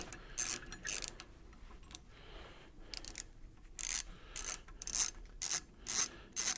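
Ratcheting and rasping metallic turns of a T25 Torx bit backing out a kickstand bolt on a Harley M8 Softail, in several short bursts with pauses between, fairly quiet and close, no talk.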